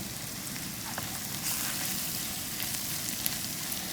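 A spice mixture fries in coconut oil for a quail stir-fry, giving a fine continuous crackling sizzle like light rain, fairly quiet and steady with a faint tap or two and no voices.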